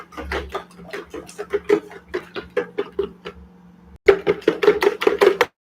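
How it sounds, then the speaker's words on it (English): An egg is beaten hard with a fork in a bowl, a rapid run of sharp clicking taps that pauses briefly, then starts again faster and louder. "So whisk the egg very well so that the egg yolk and the egg white will marry themselves together well."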